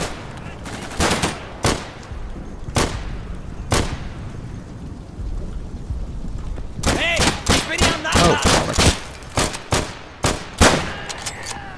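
Machine gun fire from a friendly MG in the World War II shooter Day of Infamy: a few spaced single shots at first, then a dense run of rapid bursts, moderately close and loud.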